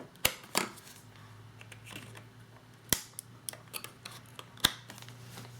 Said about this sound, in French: Vous allez ensuite insérer votre carte SD dans votre réflexe.